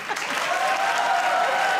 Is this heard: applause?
yes